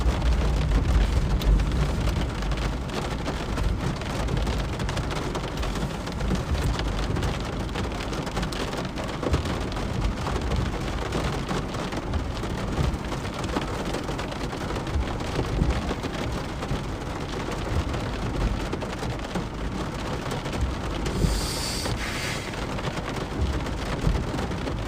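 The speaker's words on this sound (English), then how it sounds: "Storm continues to move north." A thunderstorm over Wyoming and Montana brings heavy rain that drums steadily on surfaces, with low rumbles of thunder rolling beneath it and no one speaking.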